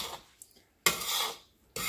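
Coconut and sugar being sautéed in a pan for coconut burfi, a spoon scraping and stirring in two loud, raspy bursts separated by a quiet pause, close and without talk.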